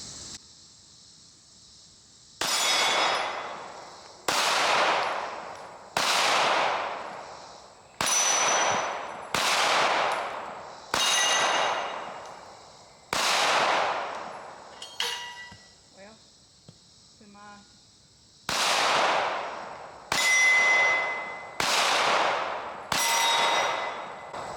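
Pistol shots ring off a steel Texas Star target in a string of about a dozen sharp impacts, each with a long metallic ring-out, spaced a second or two apart with a brief gap midway.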